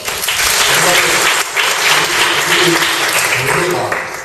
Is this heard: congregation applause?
yes